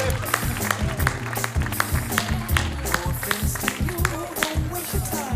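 Audience applause at an 80 km trail race award ceremony for the men's V3 category, steady clapping from a crowd mixed with a voice talking over it and background hubbub.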